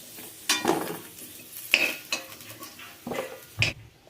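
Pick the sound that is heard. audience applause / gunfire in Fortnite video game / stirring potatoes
stirring potatoes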